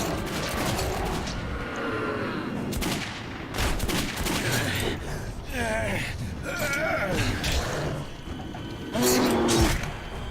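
Bursts of gunfire from the video game Metro 2033 crackle in quick volleys under excited French shouting from players.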